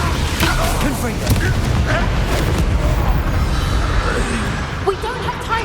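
Confringo fire spell exploding in Hogwarts Legacy during a busy battle, with heavy booms and crashes in a dense, loud mix of combat effects and voices.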